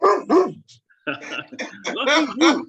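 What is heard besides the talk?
dog barking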